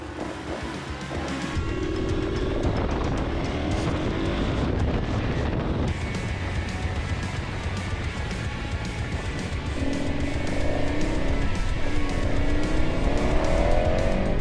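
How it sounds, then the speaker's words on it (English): A KTM 1190 Adventure motorcycle engine runs loudly throughout, its revs sweeping up and down as it accelerates hard, with a steady roar and no talking. "So I'm going to give her a start"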